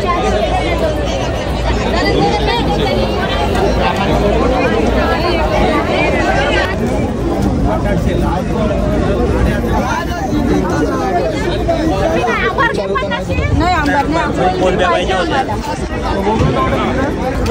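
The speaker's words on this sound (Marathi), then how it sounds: "गर्दी बघत आहे" Busy fish market crowd chatter, a dense, steady babble of many voices close around, with vendors and shoppers haggling over fish like bombil and kolbi prawns throughout.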